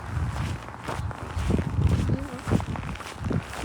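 Footsteps crunch on snow outdoors, a series of soft irregular crunches close by with people talking over them.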